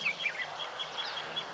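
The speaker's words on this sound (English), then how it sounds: "Let's have a listen to some of the birds" Small birds chirp in short, high, repeated notes at a moderate distance, scattered calls over a soft outdoor background.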